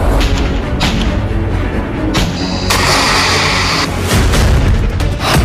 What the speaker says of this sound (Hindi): अब हिजबुल्लाह इसी मिसाइल से इजराइल पर ताबड़तोड़ हमले कर रहा है।